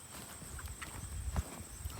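Horses move about, their hooves thudding and clopping faintly in irregular steps at a distance, with no clear squeal standing out.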